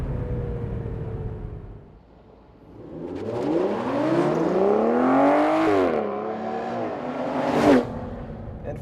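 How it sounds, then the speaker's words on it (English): A 2014 Aston Martin V12 pulls hard and smooth, its engine note climbing steadily after a quieter lull, holding high, then dipping with a gear change before rising again, loud and continuous with no talk. "probably the nicest V12 engine note there is"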